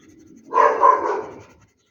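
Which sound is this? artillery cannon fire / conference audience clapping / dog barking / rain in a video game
dog barking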